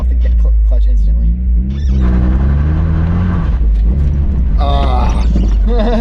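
A manual Nissan 350z or Mazda Miata pulls away as the clutch is released, a loud, deep engine rumble inside the car that rises and shifts, with people talking over it.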